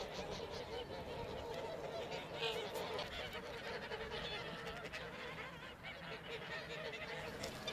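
Geese of a breeding flock honk in a farm field, a dense, continuous chorus of overlapping calls mixed with a constant outdoor wash and some voices.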